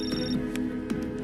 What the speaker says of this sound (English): Sensei gets a call from his personal trainer who's ringing to remind Seagal it's time to go for a walk